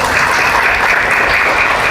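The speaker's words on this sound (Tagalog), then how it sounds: "pumalakpak muli kayo." Audience at a church gathering in Marikina City bursting into dense, steady applause, loud and sustained throughout with no voices standing out.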